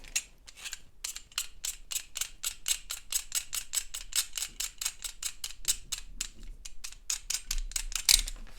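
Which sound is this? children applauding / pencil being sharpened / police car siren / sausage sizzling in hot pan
pencil being sharpened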